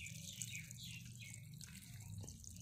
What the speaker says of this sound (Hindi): हम पानी अच्छे से लगा देंगे ताकि नीचे तक ये चले जाए